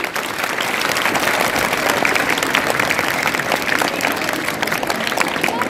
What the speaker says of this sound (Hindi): आपकी पुरजो तालियां रुकनी नहीं चाहिए।